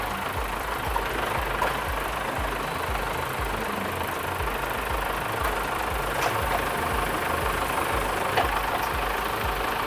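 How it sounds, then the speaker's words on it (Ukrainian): A tractor engine drones steadily and loudly with a low rumble while a Lemken EurOpal 7 3+1 plough works behind it, with faint knocking and clatter running through throughout. "Дуже красиво працює плуг."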